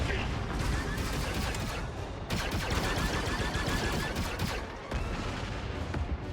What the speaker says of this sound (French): Tourelle activée, Kay.